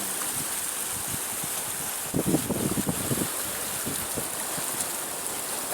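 Water gushes from an opened basin gate feeding paddy fields, a steady rushing roar with a short burst of splashing surges in the middle, no voices.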